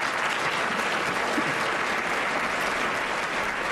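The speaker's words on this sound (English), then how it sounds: "Theresa May being applauded yesterday for her words" A large audience applauds Theresa May's speech, sustained, even clapping filling the room without any voices over it.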